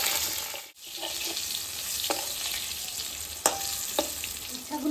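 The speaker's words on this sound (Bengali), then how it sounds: "তাই আমি উচ্ছেটাকে আগে আলাদা করে কড়া করে ভেজে নামিয়ে নেব।" Sliced bitter gourd fries in hot oil, giving a steady close sizzle with a few sharp clicks and stirring scrapes, with no talk.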